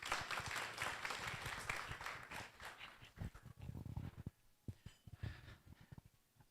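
Applause from an audience after a talk at an event, clapping that begins dense and fairly quiet and then thins into scattered, uneven claps.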